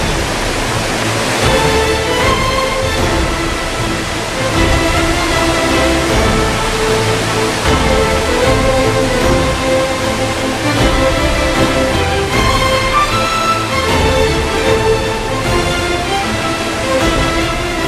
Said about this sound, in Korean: 중국어로는 후코라 불리는 폭포입니다